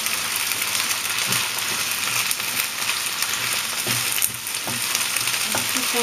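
Spring onions stir-fried over a very high fire for a Chinese stir fry sizzle loudly and steadily, with occasional scraping stirs cutting through the constant crackle, up close with no talking.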